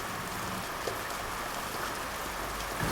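Steady rain falls in a continuous dense hiss, close and even throughout, with occasional heavier drops.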